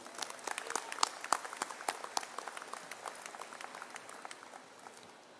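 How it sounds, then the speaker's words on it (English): An audience applauds at a university convocation ceremony, heard as faint, distant, scattered handclaps that thin out gradually toward the end. "May we have another round of applause for Mr."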